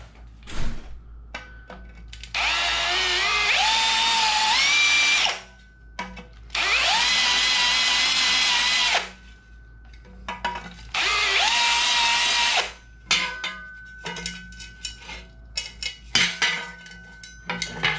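A power drill countersinks bolt holes in aluminum parts for an astromech droid leg, in three sustained whining bursts of several seconds each, separated by short pauses and followed by scattered clicks and handling noises.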